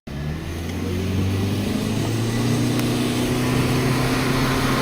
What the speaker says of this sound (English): I want to show you what it looks like on a slalom course inside one of these cars